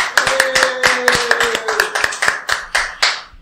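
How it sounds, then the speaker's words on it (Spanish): Applause welcoming two guests on a talk programme, a few people clapping in a close, sharp rhythm of distinct claps that gradually slow and thin out toward the end. "Quiero darles un aplauso a ustedes dos"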